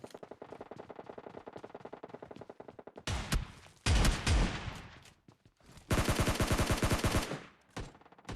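Rapid gunfire and shotgun blasts from the mobile battle-royale game PUBG Mobile Lite, opening with a fast rattling volley, then loud, close bursts of automatic fire and booming shots with brief gaps between them.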